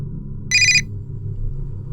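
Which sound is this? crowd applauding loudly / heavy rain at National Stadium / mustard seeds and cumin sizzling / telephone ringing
telephone ringing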